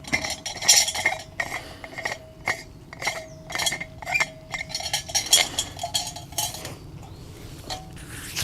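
A lid pressed onto a coffee cup outdoors on a woodland hike, with a series of light plastic and metal clicks and taps, irregular and close, over faint background ambience.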